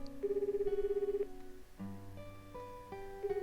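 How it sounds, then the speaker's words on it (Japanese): A telephone rings in a visual novel game, a faint electronic melody of sustained tones repeating in short phrases, heard alone. "電話？"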